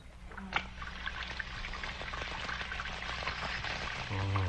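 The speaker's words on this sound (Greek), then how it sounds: "Ας ανοίξουμε τη βρύση." Water pours and trickles from a faulty tap just opened, a soft continuous splashing with a sharp click near the start and faint background sounds throughout.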